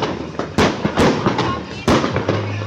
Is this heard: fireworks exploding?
yes